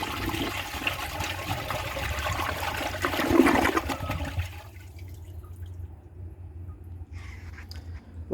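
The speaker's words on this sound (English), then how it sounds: "The flush could be better" A 1983 American Standard Plebe toilet flushes nearby with a loud rushing swirl for several seconds, then drops to a quieter trickle and tank refilling hiss.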